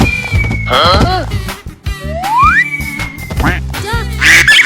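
A cartoonish duck quacks in a 3D animal video game, a series of loud, close, bright quacks and squawks with rising swoops, mixed with game music and effects.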